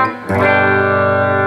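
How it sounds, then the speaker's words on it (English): An electric guitar strums a chord through a distortion effect: a quiet lead-in, then a loud, buzzing distorted chord that rings out and sustains evenly, no speech. "then distortion comes in"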